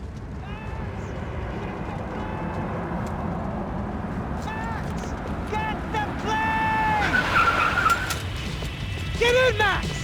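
Car engine and tyre noise from a getaway drive in the video game Max Payne 3, with chaotic action, possible skids and screeching accents over a dense, loud mix, while voices talk throughout.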